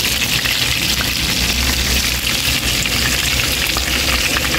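Tofu frying in oil, a loud, steady sizzle with a dense hiss that runs without a break, close up and with no voices.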